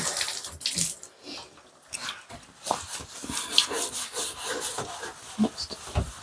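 A wet bathtub is scrubbed by hand, with close, uneven rubbing and swishing strokes and light water sounds, and no speech.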